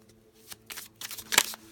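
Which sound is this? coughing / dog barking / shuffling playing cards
shuffling playing cards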